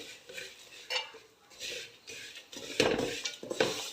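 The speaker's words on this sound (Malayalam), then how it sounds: "എടുത്ത് വെച്ചിരിക്കുന്ന വെർമിസെല്ലി ഇട്ട് കൊടുക്കാം. വെർമിസെല്ലി നന്നായിട്ട് ഒന്ന് മൂക്കണം." Vermicelli roasting in a pan with cashews and raisins for payasam is stirred with a utensil, giving intermittent scraping and clinking against the pan in uneven bursts over a faint frying hiss.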